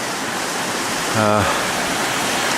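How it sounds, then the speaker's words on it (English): A waterfall rushes down a steep Snowdonia mountainside close by, a constant broad roar filling the scene, with a brief voiced sound rising over it midway. "Probably hearing the sound of the waterfall that's coming all the way down next to us."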